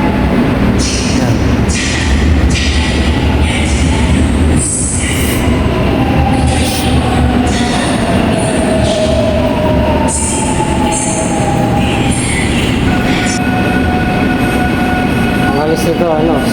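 Train pulling into a station platform: a loud, steady rumble of rolling cars with high wheel squeals and clattering, heard up close for the whole stretch, with voices faint underneath.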